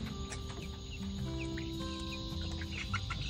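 Chickens settled on their roost at night, giving soft clucks and low murmuring calls close by, with a few brighter chirps over a steady background hum, no talking.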